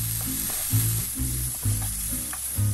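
Onions sautéing slowly over a raised flame for homemade bhurji give off a steady, close sizzle, with a low, rhythmic tonal pulse running underneath throughout.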